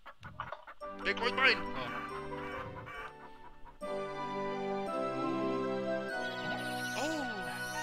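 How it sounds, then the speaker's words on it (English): A big cartoon chicken clucks and squawks in the WarioWare party game, its warbling calls mixed with game music and excited voices talking over it. "I called the big chicken."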